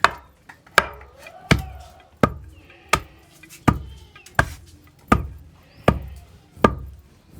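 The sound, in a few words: pounding roasted sesame and jaggery in a stone mortar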